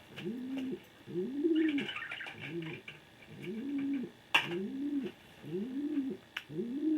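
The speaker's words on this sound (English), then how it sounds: "my birds like to make noise whenever I make videos" Soft, repeated cooing from doves close by, a rhythmic series of low calls with a few sharp clicks between them.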